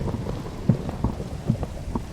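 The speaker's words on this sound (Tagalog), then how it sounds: "kaya pala nababasa pa din tayo ng ulan" Rain and thunder in the Minecraft video game, with a steady patter of rain broken by a few short, low rumbling bursts over about two seconds and no voices.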